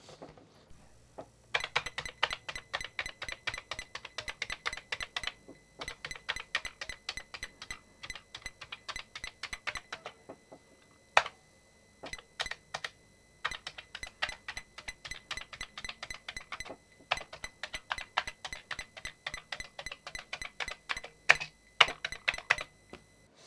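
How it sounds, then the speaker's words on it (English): Rapid clattering keystrokes on a Commodore 64 keyboard under test, in dense bursts separated by short pauses, close and clear with no talking. "the last thing to do here is properly test out the keyboard and the SID"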